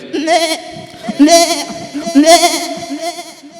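A human voice on stage at a school annual day mimics a larger goat, bleating three times in quick succession, loud and close with a quavering tone.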